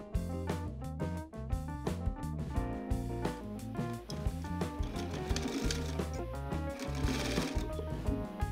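A sewing machine stitches a pleated fabric face mask, its needle running in a fast, steady, close mechanical rhythm that continues throughout with slight shifts in speed.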